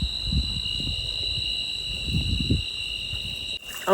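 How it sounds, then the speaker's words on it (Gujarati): Crickets chirp steadily at night in the fields, a continuous high trilling that holds across the clip while faint low rustling sounds underneath, ending with a brief louder disturbance. "હવે નકરો હે ને તમરાનો અવાજ આવે છે"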